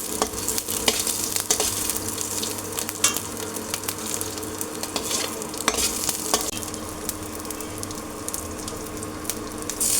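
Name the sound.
frying garlic cloves and coriander seeds in a pan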